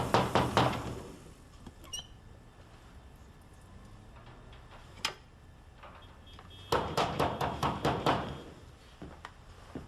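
Knuckles rap on a door in quick bursts: a cluster of knocks, a few scattered single taps, then a louder run of about eight sharp knocks, close and clear over a quiet room.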